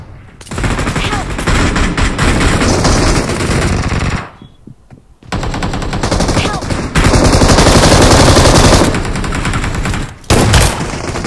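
Dense automatic gunfire from the battle royale mobile game BGMI, loud and nearly continuous in long bursts with a brief lull around the middle, a few voices faintly mixed in.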